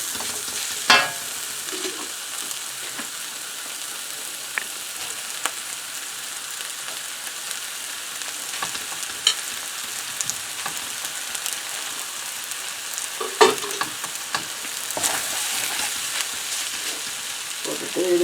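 Boiled noodles being stir-fried with egg and vegetables in a pan, a soft constant sizzle broken by scraping stirs and occasional clanks, close up with no talking.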